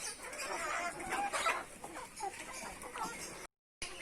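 Chickens cluck at a farm sanctuary, busy mid-range calls overlapping in a dense, steady flock chatter for most of the clip before a brief cut to silence near the end.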